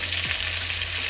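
Meat sizzles and percolates steadily in a hot pan during home meal cooking, a constant bright frying hiss with a brief stir partway through and no talking.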